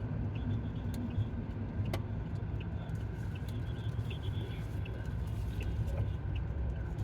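A Mahindra Bolero diesel SUV makes a U-turn, heard from inside as a steady low engine drone and road rumble with faint light rattles and clicks, no talking.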